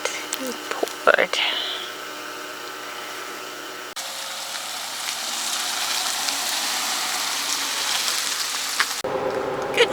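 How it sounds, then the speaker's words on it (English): Hard rain drums steadily on the roof of a Roadtrek Zion campervan parked at night in Jasper National Park, a dense continuous hiss that briefly drops out near the end. "this is pretty much what it sounded like last night when it was raining"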